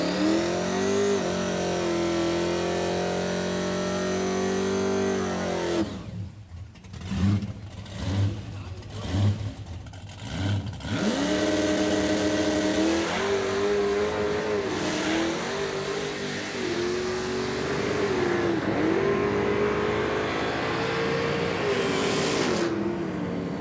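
The Rubber Duck Pontiac Firebird roars down a drag strip on a pass, engine tone rising, stuttering with a burst of wheelspin, then climbing again through gears, loud and close, with voices talking over it.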